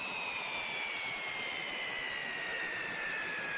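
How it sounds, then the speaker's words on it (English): JustFlight Hawk T1/A jet engine in X-Plane 11 spooling up after start, a steady airy roar with a high whine rising slowly in pitch, continuous and close. "That has started up the aircraft."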